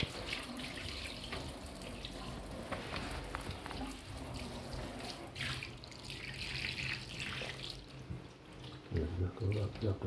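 Tap water runs over feet during wudu ablution, a steady splashing stream from a faucet with drips, with a person talking over it and a few louder splashes and thumps near the end.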